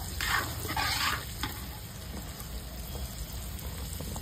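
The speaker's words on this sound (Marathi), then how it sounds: "आपण आता त्याच्यात भाज्या घालून घेऊ।" Vegetables for a Ganesh Chaturthi dish are tossed into a hot pan spiced with turmeric, kitchen king and garam masala, giving two bursts of loud sizzle, then a steady quieter frying hiss with light stirring.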